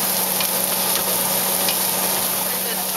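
Onion stir-frying in a pan with garlic, a steady broadband sizzle holding at the same level throughout, close and fairly loud, with a faint low hum beneath it.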